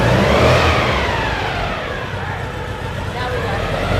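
A car engine revs up as it is given gas, a loud steady mid-pitched roar that swells at the start and holds on, with voices talking over it.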